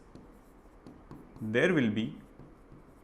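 Pen or chalk writing an answer during a physics lesson, short scratchy strokes under a teacher's speech.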